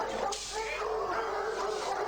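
Several trained dogs yip and bark in a busy, continuous burst, close and fairly loud, with whimpering mixed in and no clear pauses.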